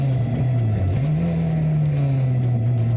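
Porsche 944 race cars charge into Turn 1 at Sandown Raceway, a loud, dense engine drone with pitch rising and settling as the field brakes and accelerates, continuous and close.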